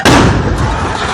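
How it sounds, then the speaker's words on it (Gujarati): A gas cylinder blasts in a house fire that reached the kitchen in Garbada, Dahod: a single loud, booming burst followed by a rumbling roar that fades slowly. "આગ રસોડા સુધી પહોંચી જતા ગેસનો સિલિન્ડર બ્લાસ્ટ થયો"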